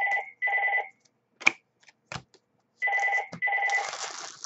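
A telephone rings in short paired double bursts, loud and close, during a live trading-card break. Card shuffling, handling clicks and taps fall in between the rings.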